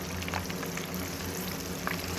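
Buttermilk chicken wings deep frying in hot oil, a dense steady sizzle with small crackles and pops, close and continuous, no talking.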